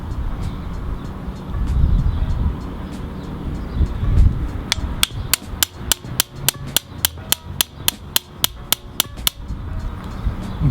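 A chisel is struck with a hammer to cut holes for a Front Runner roof rack on a Toyota Tacoma, a fast run of sharp metallic bangs in even rhythm, loud and close over background noise.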